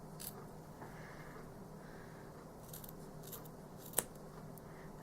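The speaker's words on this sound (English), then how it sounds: "So kind of just pull it straight and just cut on the other end of my fingers just like a haircut." Small orange scissors snip through yarn for a tassel, giving a few quiet, close cutting sounds and one sharp click, with no speech.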